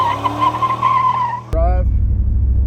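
A 1985 Chevrolet Camaro IROC-Z revs loudly with a steady engine drone, then a short, sharp tire squeal cuts in near the middle before the engine roar continues.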